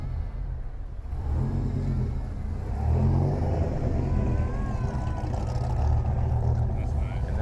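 A cammed V8 car engine rumbles and revs at a Coffee and Cars show in New Hampshire, a deep loping idle swelling into louder revs amid outdoor crowd noise and nearby talk.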